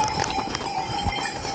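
Horses plod along a muddy, wet mountain trek path on the Kedarnath route, their hooves giving soft, close clops over steady outdoor background noise.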